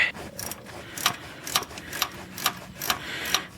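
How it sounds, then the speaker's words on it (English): A ratchet wrench tightening the tensioner pulley bolt on a 1991 Dodge Stealth during drive belt replacement, a quick run of crisp clicks and light metallic ticks, close up and alone. "we're just going to turn our ratchet back on to tighten"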